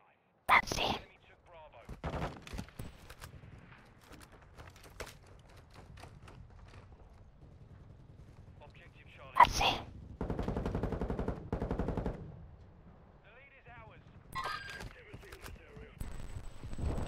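Call of Duty Modern Warfare II gunfire, with sharp bursts of automatic fire and single shots in loud clusters near the start and again midway, over game ambience and scattered smaller impacts.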